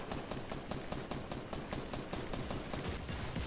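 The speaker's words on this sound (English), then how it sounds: "They're shooting, get down." Rapid continuous gunfire from a Fortnite match, dense bursts of shots running the whole time, loud and close with no gaps.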